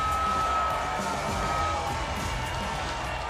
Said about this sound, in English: Some massive support in the crowd here for Alex Morono